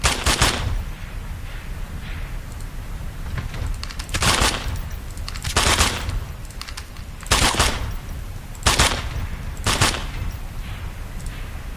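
Bursts of rifle fire from SAS close-quarters training in a kill house, engaging moving targets: sharp, loud volleys in separate clusters across the span, each burst of rapid shots followed by brief pauses, with no talk over them.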